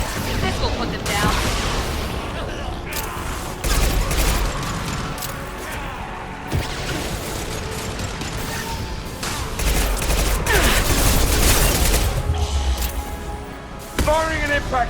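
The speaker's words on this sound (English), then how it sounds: "Firing an impact shot!" Impact shot gunfire and combat in Mass Effect Legendary Edition, played as an Engineer: repeated bursts of weapon fire, sharp blasts and mechanical clanks, loud and busy, layered over game effects with voices heard in the mix.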